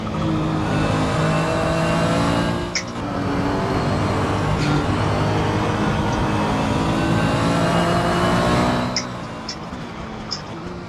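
A turbocharged race car in the Assetto Corsa racing game, a loud sustained engine drone with harmonic whine and turbo whistle through repeated gear changes and throttle shifts, with brief sharp blips as it lifts off near the end.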